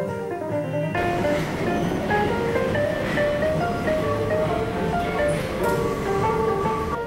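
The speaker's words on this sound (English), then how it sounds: "We ride the metro trains," A Paris metro train rides through tunnels, a sustained rolling rumble with high metallic wheel squeals and tones that begin abruptly after a second and carry on steadily to the end.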